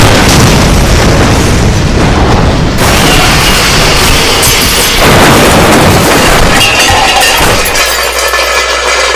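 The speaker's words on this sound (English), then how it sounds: "Impact with unidentified cosmic object in 3 seconds." A spaceship's impact in Garry's Mod sets off a huge, loud explosion, a sustained roaring blast with crashing, breaking debris that fills the whole stretch and shifts in character as it rumbles on, with no voice.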